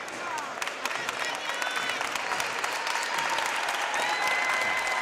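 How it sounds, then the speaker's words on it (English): Basketball fans of the Dickson County home crowd clap steadily in a gym, a dense, moderately loud patter of applause with scattered squeaky sneaker chirps throughout. "the County fans applauding their starting squad and their performance tonight"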